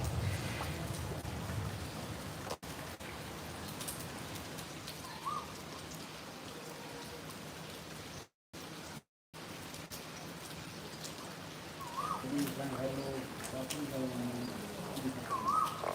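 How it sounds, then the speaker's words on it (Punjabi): Steady heavy rain pours down in Faridkot, a dense, continuous hiss that lasts throughout, with a few soft bird coos and a faint voice or two in the background. "ਹੁਣ ਮੀਂਹ ਬਾਲਾ ਪਈ ਜਾਂਦਾਗਾ"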